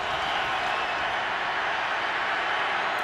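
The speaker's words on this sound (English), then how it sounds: "Crowd noise" A Broncos home playoff crowd in a Denver stadium against the Steelers gives a dense, constant roar of massed voices that stays loud and even throughout, with no break.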